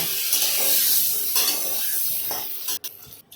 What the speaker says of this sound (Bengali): এটাকে আমি এবার নিয়ে এটা ভেজে নেব